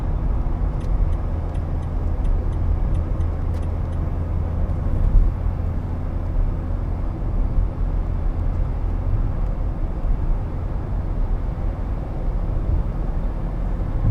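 2014 Vauxhall Vivaro 2.0 CDTi Sportive panel van cruising at 70 mph at just over 2,000 revs, a steady, loud drone of engine, road and wind noise from inside the cab with faint ticking.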